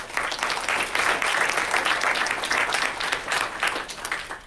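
Steady, full applause from an audience at a campus talk on free speech and censorship, a dense unbroken wash of clapping that stays loud throughout with no voices over it.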